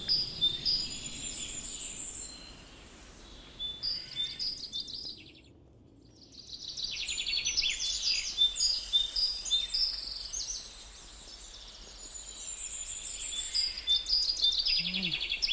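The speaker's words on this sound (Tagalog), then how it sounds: "Naririnig niyo ang mga ibon? Yan sila ang kasama namin habang kami ay naglalakad dito." Bursts of high chirping birdsong come and go against quiet outdoor background on a nature walk in Belgium, with a brief silent gap midway; no one speaks.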